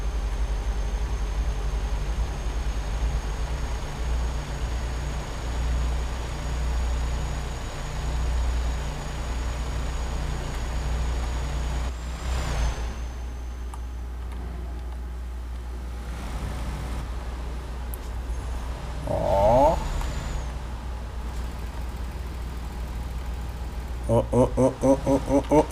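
A truck in American Truck Simulator drives in twelfth gear, its engine giving a steady low drone with road rumble and a faint whine, continuous at a moderate level, broken by a few brief clicks and tones.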